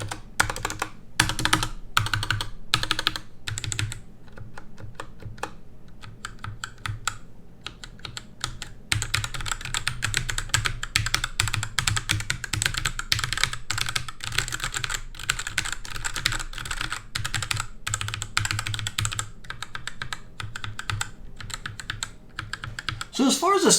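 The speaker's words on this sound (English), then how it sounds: "Let me go on and give you a quick sound test. And again, we are using the Gateron optical brown switches here." Close, continuous typing on a Kemove DK66 mechanical keyboard fitted with Gateron optical brown switches, crisp rapid keystrokes with short pauses and a few slower bursts near the start.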